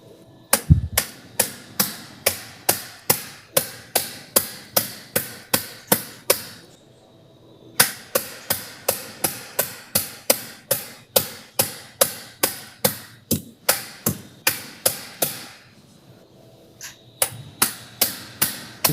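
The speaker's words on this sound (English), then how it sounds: "You can tell he's an orthopedic surgeon the way he swings that hammer." Surgeon's hammer driving an interbody cage during lateral spine fusion surgery, a long series of sharp, evenly spaced metallic taps in two runs separated by a brief pause, loud and close.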